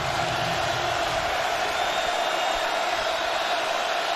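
Steady roar of a football stadium crowd at a Michigan vs Nebraska college game, a dense unbroken wash of distant voices holding at an even level throughout.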